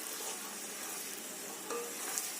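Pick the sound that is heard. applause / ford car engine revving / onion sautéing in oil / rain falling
onion sautéing in oil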